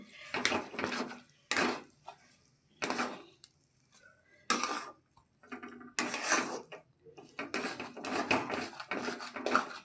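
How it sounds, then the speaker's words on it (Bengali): Jaggery being stirred into semolina in a pan: a spoon scrapes and knocks against the pan in repeated uneven bursts with short quiet gaps between them, close and fairly clear. "গুড়টা এভাবে ভালো করে মিশিয়ে নিতে হবে।"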